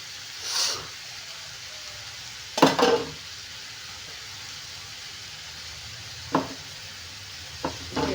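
A spoon scrapes and clinks a few times in a pot of sambar made with dal and okra, in short separated bursts over a low, steady background hiss.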